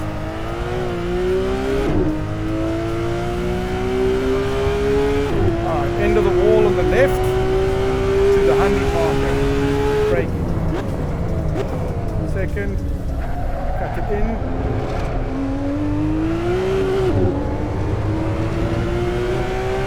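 A race car lapping Spa-Francorchamps in the racing game Assetto Corsa, its engine whining upward through the gears with abrupt shift drops, brief braking dips and faint tire squeal, loud and continuous throughout.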